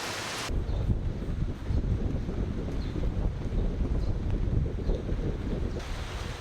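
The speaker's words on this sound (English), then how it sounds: "Also in Shibushi City, it was heavy wind-driven rain." Heavy wind-driven typhoon rain in Shibushi City, Kyushu, pounding newly planted rice paddies: a dense, loud, continuous roar of rain and gusting wind buffeting the microphone, steady throughout with no talk.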